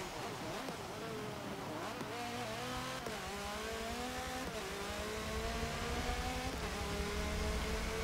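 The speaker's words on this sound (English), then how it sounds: "Bentley race car up front" A Bentley race car engine on the Nürburgring GP circuit in Forza Motorsport 7 in the rain, heard as a steady loud engine note that rises in pitch through gear after gear, with quick shifts between them.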